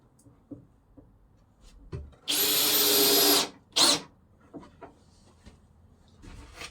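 A power drill drives a screw into plywood for a full-size Santa sleigh, one loud whirring burst of about a second followed by a short final spin, with quiet handling noises around it.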